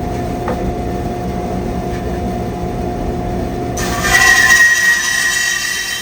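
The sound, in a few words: bandsaw ripping 2x4 boards, dust collector running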